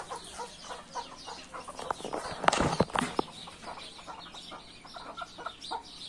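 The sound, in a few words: chickens and chicks clucking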